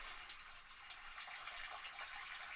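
Tap water running steadily into a sink, a faint, even hiss that continues without a break.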